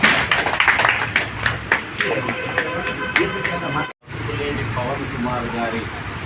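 Group clapping for a young girl's birthday celebration, a burst of hand claps with scattered individual claps, fairly close, with voices and background noise mixed in and a brief cut partway through.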